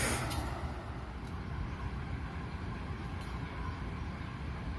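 A CC204 diesel locomotive prepares to pull out of track 3 at Prabumulih station, giving a faint, distant low rumble with a couple of brief hissing bursts near the start.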